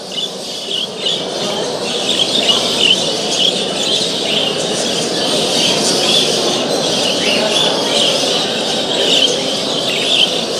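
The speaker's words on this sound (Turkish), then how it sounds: "Tabii kuşlar artık bu kadar kuşun arasında biraz onlara da hak vermek lazım." A dense chorus of many caged birds squawking and chirping all at once at an indoor pet fair in Istanbul, loud and continuous, with a busy crowd murmuring underneath.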